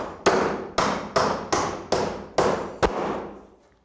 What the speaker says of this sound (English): I can now go back and nail the intermittent